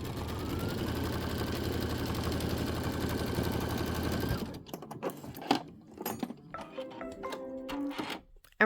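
A sewing machine tacks down dark fabric for a Kimberbell Star Spangled Celebration mug rug, running in a steady fast whir for about four seconds before stopping. Scattered handling clicks and rustles follow.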